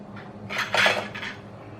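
A new lid is twisted tight onto a hot glass jar of pepper pickle in tomato sauce, giving brief close scraping and clinking rubs that peak in the middle of a short burst.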